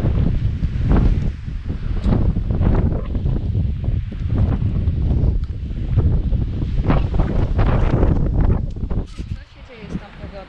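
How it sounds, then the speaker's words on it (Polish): Strong gusting wind on the Sarnia Skała mountain summit near Zakopane buffets the microphone with a loud, continuous roar, and a voice speaks briefly beneath the blustery noise. "Bardzo no, zaczęło wiać."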